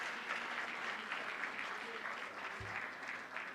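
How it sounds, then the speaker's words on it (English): An audience at a fall varsity sports awards event applauds in a soft, steady wash of clapping that sounds distant and muffled, with a low thump partway through. "If we could all give a round of applause to Hank"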